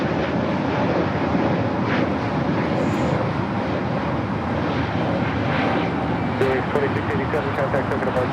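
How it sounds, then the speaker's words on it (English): A 777 cargo freighter passes over LAX with a steady, broad engine roar that holds throughout, loud and continuous, with faint radio voices in the background. "Cargo K, 777 freighter, flying over LAX."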